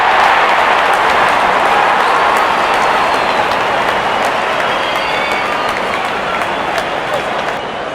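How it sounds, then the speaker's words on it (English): A cricket stadium crowd cheers and applauds steadily throughout during a T10 match between Pakistan and India, a loud, dense roar that fades slightly near the end. "There's such a wonderful crowd in to watch their favorite players."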